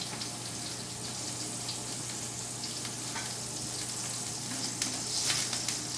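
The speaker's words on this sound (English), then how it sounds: "The bacon grease in our stock pot has got a beautiful sizzle going right now." Bacon grease sizzles steadily in a stock pot on a medium-high stove, a constant close hiss with faint crackles and no talking.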